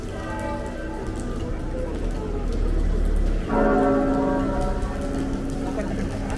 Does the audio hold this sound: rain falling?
yes